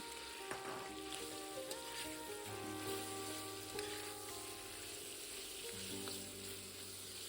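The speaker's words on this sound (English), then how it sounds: "Keep stirring until the meat turns brown." Pork shoulder stir-fries in a wok for Hunan-style pork, a faint, even sizzle with occasional light taps and scrapes, under steady tonal background music.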